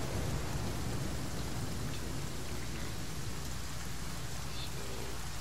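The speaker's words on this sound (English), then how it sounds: "Now that it's raining, I can fill the jar with rainwater" Rain pouring in the video game The Flame in the Flood, a dense continuous hiss with a faint low rumble beneath, steady and even throughout.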